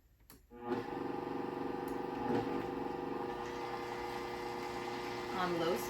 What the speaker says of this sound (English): Now I am going to start the blender with the lid on.